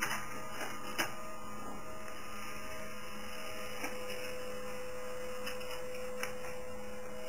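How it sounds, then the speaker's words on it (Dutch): A printer runs steadily in an office setting, outputting a freshly scanned document from an Ubuntu desktop copy station, its continuous mechanical hum and whir broken by a few faint clicks. "Als het goed is, komt het documentje nu uit de printer."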